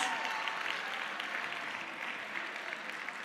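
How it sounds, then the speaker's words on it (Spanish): Audience applause at a carnival troupe presentation in Errenteria, a steady wash of clapping from a crowd that holds at an even level for about three seconds with no one speaking over it. "Txalo bat, un aplauso fuerte para Chasis y sus cruelas."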